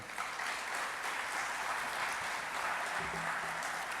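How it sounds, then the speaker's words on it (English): Audience at an academic gathering on African political economy in Sharjah applauds in a steady, even wash of clapping, soft and somewhat distant, continuing throughout. "So a well-deserved round of applause in order for all of you"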